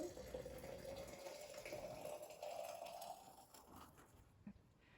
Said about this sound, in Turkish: Bu kavanoz dolana kadar Böyle kaynar suyu döktüm